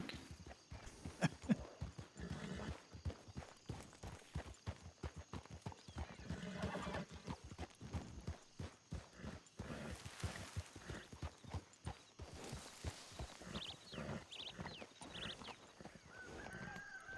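Horse hooves clip-clopping in a ranch roleplay video game, a steady near rhythm of hoofbeats with a whinny and some honking fowl mixed in.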